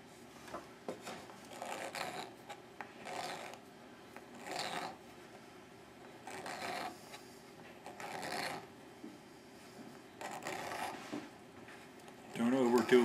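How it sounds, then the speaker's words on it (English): Sandpaper rasps in short, repeated strokes as a wooden fiddle peg is turned while its end is bevelled. The strokes are soft and close, spaced about a second apart, with quiet background noise and a clunk at the end. "I'm turning the peg while sanding and putting a bevel"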